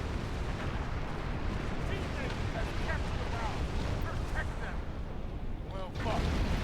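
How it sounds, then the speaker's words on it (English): Bomb dropped from a plane in a naval battleship video game detonates amid constant rumbling engine and battle noise, a dense, loud wash of booming low-end blasts with a voice talking over it. "Let me drop my bomb now"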